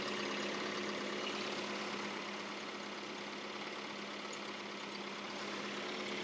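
A 1971 Datsun 510 engine on twin SU carburetors idles steadily, a smooth, even mid-pitched hum with a faint constant drone, no voices.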